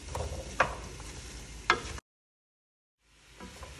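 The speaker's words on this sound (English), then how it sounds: "you add in the apples and you stir it around till all the butter is coating the apples" Apples are stirred through melted butter in a pan, with two sharp scrapes of a utensil over a soft sizzle, then a full silence before the quiet frying resumes.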